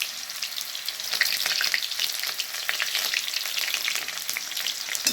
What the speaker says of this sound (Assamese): প্ৰথমতে মই এয়া কেৰাহীত তেল দি কিনে পিঁয়াজ দি দিছোঁ।